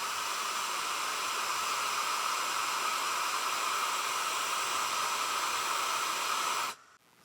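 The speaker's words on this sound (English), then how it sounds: "this power station definitely passed the hair dryer test" A hair dryer powered by an Anker 757 PowerHouse 1229Wh 1500W portable power station blows with a loud, steady, whooshing roar for several seconds before it abruptly cuts off.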